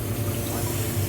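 Water sprays steadily under strong pressure from an outdoor shower with a bidet-type sprayer, a dense continuous hiss close by with no pauses.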